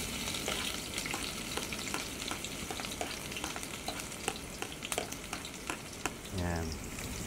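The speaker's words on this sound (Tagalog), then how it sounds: "magigisa na tayo ng sibuyas tsaka ng bawang" Onion and garlic sautéing in a pan, a steady close sizzle and crackle of frying with occasional stirring scrapes, heard alone without talk in a seaside homestay kitchen.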